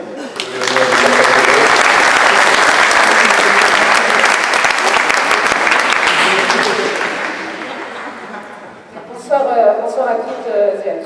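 An audience applauds loudly and steadily at a volleyball club's season jersey presentation in Toulon, the clapping fading after several seconds before a voice begins speaking.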